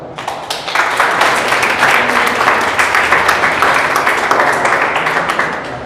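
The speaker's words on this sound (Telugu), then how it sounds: "చప్పట్లు కొట్టాలా?" Applause from a room of SSC students at a school talk, a dense, sustained burst of many hands clapping that rises quickly and continues steadily for several seconds.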